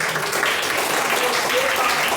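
A church congregation applauds in a dense, steady wash of clapping, loud and close throughout, with a faint murmur of voices underneath.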